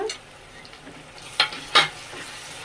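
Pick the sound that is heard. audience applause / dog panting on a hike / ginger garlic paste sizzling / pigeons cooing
ginger garlic paste sizzling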